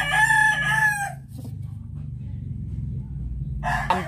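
A young rooster (stag) crows once at the start, loud and close, then a second crow begins at the end, with quiet farmyard background between.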